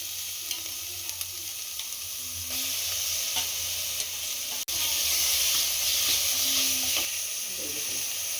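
Onions with freshly added ginger garlic paste fry in a pan for a home-style chicken biryani, giving a continuous loud sizzle and hiss with a few stirring scrapes and a brief click partway through.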